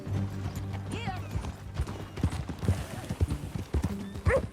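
Hooves clip-clop at a steady walking rhythm, with a horse's whinny and snorts breaking in, close by and moderately loud, in Red Dead Redemption 2.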